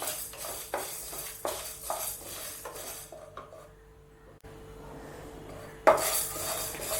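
Red chillies dry roasting in a pan with no oil, stirred with a utensil: repeated close scraping and clinking of metal against the pan in an uneven rhythm, then a quieter stretch before a louder scrape returns.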